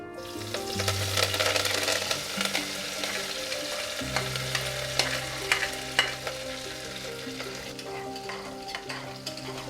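Onions and curry leaves sautéing in oil for a chana dal gravy, a steady close sizzle with frequent scraping and stirring clatter throughout, no voices.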